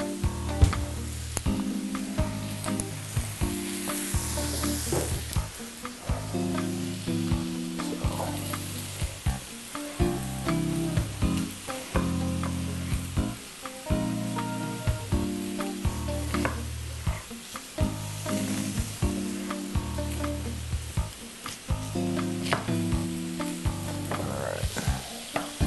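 Chicken for tacos frying in a pan, a constant loud sizzle with rhythmic chopping and scraping as the meat is minced, with no talking.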